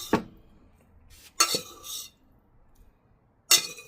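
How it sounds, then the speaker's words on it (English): Utensil scraping and clinking against a nonstick pan while cooked Indomie Mi Goreng fried noodles are lifted out, a few short, close scrapes separated by quiet pauses. "I know somebody's going to say you're scratching up your nonstick pan"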